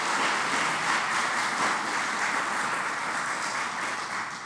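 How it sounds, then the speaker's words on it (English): Sustained applause from an audience at a distinguished faculty lecture, steady and dense throughout before tapering slightly at the end, with no voices over it. "let's give our team a round of applause"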